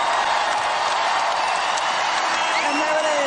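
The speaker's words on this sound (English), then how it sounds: "And they are chanting Tara." A basketball crowd at a Stanford versus Oregon State game chants and roars for coach Tara VanDerveer. The loud, dense wall of voices holds steady throughout.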